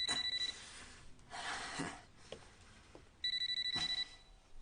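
A telephone rings in two electronic bursts separated by a pause, with softer rustling and handling noises in between.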